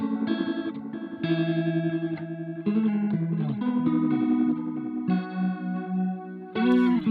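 A guitar runs through a Strymon Brig analog delay pedal at high settings, sustained chords and notes swelling into thick organ-like repeats that ring and overlap, with no voice over the playing.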